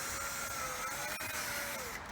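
A cordless drill spins a buffing pad against a car headlight, a faint steady high whine holding nearly constant pitch with a slight drop near the end, no talk over it.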